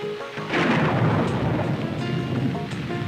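Heavy rain and rolling thunder fill a Hindi-dubbed Prabhas movie scene, a dense continuous roar that swells after a brief quieter opening and stays loud throughout, with no voices.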